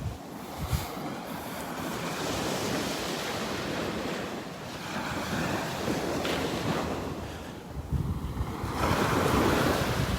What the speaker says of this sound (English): Just walking along the shore, enjoying the sounds of the waves.